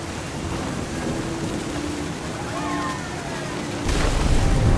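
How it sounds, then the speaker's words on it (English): Thunder and rain in the video game What Remains of Edith Finch: a steady wash of rain with a deep rumble that swells louder near the end, while a voice talks faintly over it. "Thunder sounded much too close and full of angry power."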